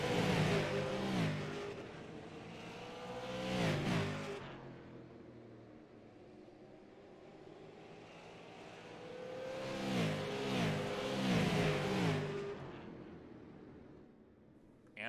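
Super Late Model race cars at Nashville Fairgrounds Speedway roar past the finish line in two loud waves of engine noise, each swelling and fading as the cars accelerate by.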